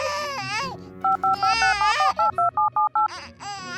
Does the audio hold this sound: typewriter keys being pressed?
no